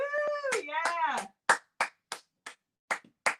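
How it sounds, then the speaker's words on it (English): A few isolated hand claps at a live stand-up comedy show, about six sparse, evenly spaced claps ringing out alone after a stretch of voice. "Your claps mock me."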